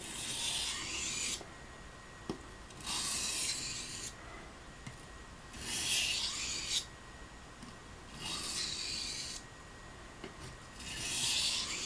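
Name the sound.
sharpening a gunstock bone blade on water stones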